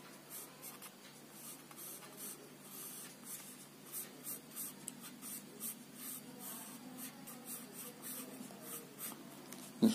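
A pencil sketching vehicle wheels on paper makes soft, close scratchy strokes in short bursts and curves, quiet and steady with brief pauses between marks.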